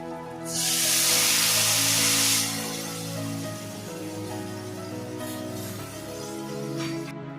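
Lentils go into a pan of fried mango for sour dal, setting off a loud, close burst of hissing sizzle that lasts about two seconds and then settles to a quieter simmer over a steady tonal hum.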